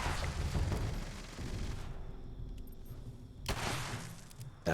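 A turret in the Fallout 76 video game fires amid game action, with bursts of gunfire and booms that come in dense clusters, break off into a quieter stretch, then return.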